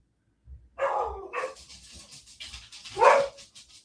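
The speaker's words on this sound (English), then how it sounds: "Why are they barking?" A few dogs barking nearby, a short burst of sharp barks and yelps followed by one more loud bark, with faint panting and background noise between them.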